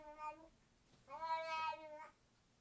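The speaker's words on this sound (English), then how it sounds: "That's my cat." A house cat meows twice at close range, a short mew followed by a longer drawn-out one, faint room tone otherwise.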